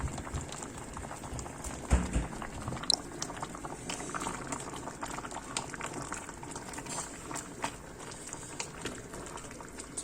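Curry sauce with curry powder bubbling in a pot on the stove, a steady low simmering hiss with scattered pops and a couple of brief knocks, moderately quiet throughout.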